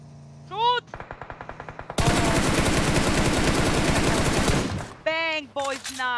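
Gunfire in the battle royale game PUBG Mobile during a tournament match: a short burst of rapid single shots, then a sustained loud machine-gun volley lasting about three seconds, with excited voices before and after.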